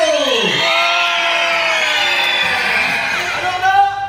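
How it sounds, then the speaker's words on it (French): A circus audience shouting loudly, a dense sustained roar of many voices with children's shrieks and whoops over it, close and loud for several seconds. "On crie très fort."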